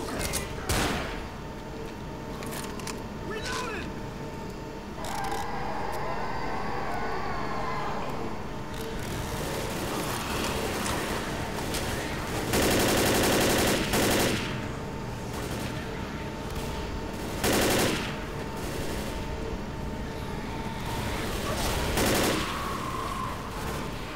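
Sustained gunfire fills the Left 4 Dead zombie-shooter campaign Crash Course, with rapid, loud volleys and scattered sharp shots rattling continuously, and occasional voices mixed in.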